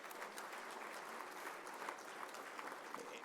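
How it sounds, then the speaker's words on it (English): Audience applause at a Boston Irish Honors luncheon at the Seaport Hotel in Boston, a steady round of clapping from a seated crowd, moderately distant and even throughout. "How about a nice round of applause for Linda?"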